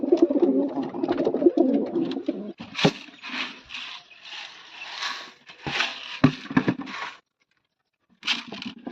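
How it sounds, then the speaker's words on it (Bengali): Lotan and king pigeons in a loft cooing in repeated throaty bursts, close and fairly loud, with short pauses and a brief silence near the end, plus faint scrapes and fluttering. "দেখুন আমাদের কি লটুন পায়রা আছে, কিং পায়রা আছে, তলায় অনেক রকম পায়রা আছে তলায়ও।"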